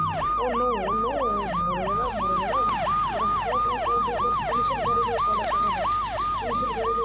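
A police car siren in the mobile game Rope Hero 2 wails loud and close in a fast, regular up-and-down cycle that repeats without pause, with a low engine hum beneath.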